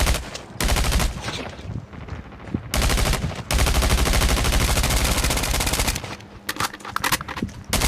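Gunfire from shooting practice in Call of Duty Mobile: loud, rapid bursts of shots in quick succession, broken by brief pauses between volleys.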